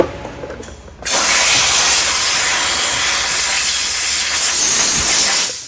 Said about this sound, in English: Get that air hose.